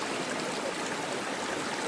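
Steady rushing water pours through a river sluice used for finding gold and gems, a constant broadband wash with no breaks, moderately close and without voices.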